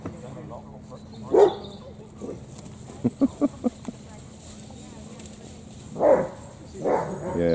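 A German Shepherd puppy gives a few short, scattered barks outdoors, one near the start, a quick cluster in the middle and another toward the end, with low background noise between.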